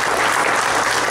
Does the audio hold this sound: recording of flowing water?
no